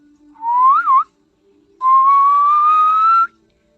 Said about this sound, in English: When the sun was setting, Heidi heard a whistle.